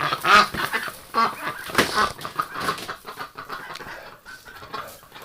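A group of ducks and geese at a winter water station quack and honk in uneven bursts nearby, fairly loud at first and then softer and scattered.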